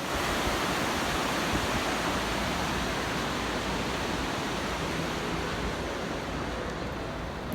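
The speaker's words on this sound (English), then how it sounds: "this is Spokane River, and the river runs right through the park" The Spokane River rushes through Riverfront Park in Spokane, Washington, a loud, continuous broadband roar of flowing water, steady and close, with no other sounds standing out.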